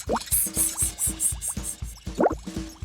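Cartoon water splashing in a bright children's animation, a quick run of wet plops and droplet splashes in a steady rhythm, close and fairly loud with no talk.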